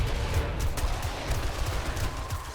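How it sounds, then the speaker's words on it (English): Dense, continuous battle din from a horde-night defense in the survival game 7 Days to Die, with booming low explosions and rapid gunfire overlapping throughout, loud and unbroken with no talk. "Every time the explosions and stuff go off."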